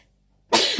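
A single short, loud sneeze bursts out abruptly after silence, close to the microphone.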